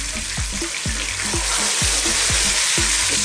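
Meat browning in a pan over high heat, with a steady loud sizzle and repeated scraping stirs, roughly two per second, close up and without talk.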